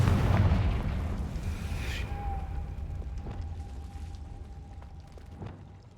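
A Confringo spell in Hogwarts Legacy detonates in a loud blast up front, then rumbles and fades away, with a thin ringing tone and faint scattered crackles as it decays.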